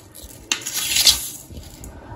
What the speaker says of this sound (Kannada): ಹಾಲಿಗೆ ನಾನು ಸಕ್ಕರೆ ಹಾಕೊಳ್ತಾ ಇದ್ದೀನಿ